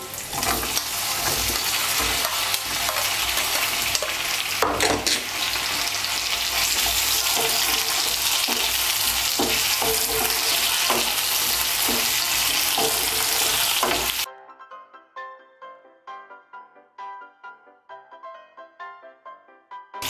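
Potatoes and boiled gathi kochu (taro) fry in a pan, a loud continuous sizzle with scraping stirs that cuts off abruptly, leaving quieter, intermittent crackles and spatters.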